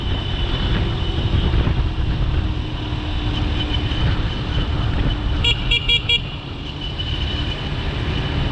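A car horn gives a short series of quick friendly toots late in a steady rumble of road traffic on a wide street in Vietnam.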